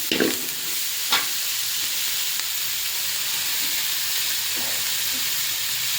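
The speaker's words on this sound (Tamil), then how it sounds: "ஓகே, ஆனியன் நல்லா வதங்கட்டும்." Onions sautéing in a pan for hotel-style noodles give a steady, close sizzling hiss throughout, with a couple of brief stirring scrapes near the start.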